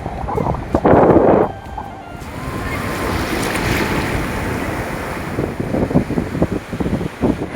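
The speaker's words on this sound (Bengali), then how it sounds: "এই তো হলো তাহলে মন্দারমণি সমুদ্র সৈকত।" Ocean surf rolls onto Mandarmani sea beach in a steady wash. A louder crash comes near the start, and wind buffets the microphone throughout. No one speaks.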